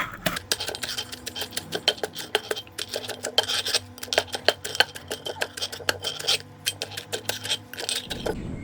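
Northern Thai bamboo shoot salad with mushrooms is pounded and mixed in a mortar, a fast run of sharp close knocks and scrapes in an uneven rhythm that stops near the end.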